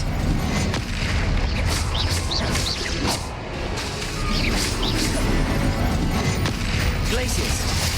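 Spell effects from the Hogwarts Legacy video game, with Defendo, Protego, Glacius, Confringo and Expelliarmus being cast: a dense, continuous wash of magical whooshes, crackles and booms, with no pauses, over background game music.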